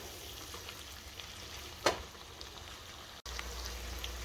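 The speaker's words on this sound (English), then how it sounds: "we're going to soften these mushrooms and we're going to continue to cook" Mushrooms sizzling and frying down in an oiled pan, a steady soft crackle and hiss close by, with one brief louder stir partway through and no talk.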